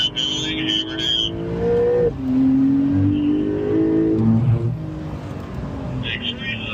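A Porsche accelerates hard on a track, its engine note rising steadily in pitch through the gears, loud and close, with an instructor's voice talking over it.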